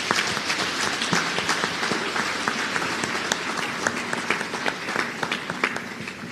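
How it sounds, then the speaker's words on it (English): An audience at the ANSAR opening ceremony on Nevis gives a sustained round of applause, dense continuous clapping from a large crowd that stays loud and even throughout. "the entire organizing committee a resounding round of applause"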